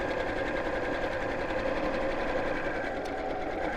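A sewing machine runs steadily, stitching along the lines of a quilted scissor keeper, a continuous close motor whir with a fast even needle rhythm throughout, no voices.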